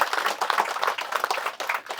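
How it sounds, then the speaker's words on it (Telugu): An audience claps in applause, a dense, even patter of many hands that carries on for a couple of seconds with slight dips in loudness. "మీరందరూ గట్టిగా చప్పట్లతో అభినందనలు తెలియచేయండి"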